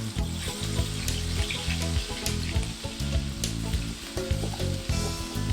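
Half a pound of chorizo and a pound of bacon browning together in a pan for discada, a dense, loud, continuous sizzle with rhythmic scraping stirs throughout.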